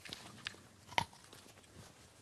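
A small crunchy cultivated mushroom bitten and chewed up close, with a sharp crisp crunch in the middle among softer, quieter chewing clicks.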